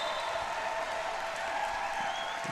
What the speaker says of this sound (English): The crowd getting into the action.